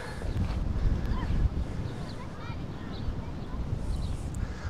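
Wind buffets an outdoor microphone in the fishing village of Freest, making a steady, loud low rumble that runs through the whole stretch with slight gusting swells.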